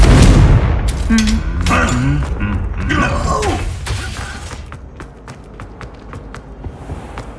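The Confringo fire-blast spell cast in the video game Hogwarts Legacy: a loud, booming burst with crackling, rumbling debris that fades over several seconds, with a voice and brief game sounds mixed in.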